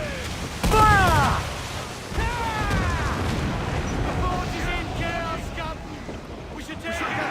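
Ship cannons boom in Assassin's Creed 4 Black Flag, a heavy blast near the start followed by a rumbling second volley, with crew shouting over the naval battle.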